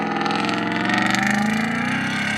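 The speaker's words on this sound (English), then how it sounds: "So I'm just going to floor the throttle." Hennessey VelociRaptor 6x6 pickup engine roaring steadily at full throttle as it accelerates, loud and close, with a dense continuous drone.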